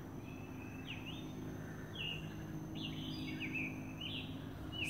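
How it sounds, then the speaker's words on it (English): A bird calls from the trees in the woods, faint repeated chirping notes spread through a quiet outdoor background hum. "It's probably a bird."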